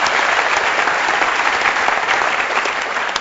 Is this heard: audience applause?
yes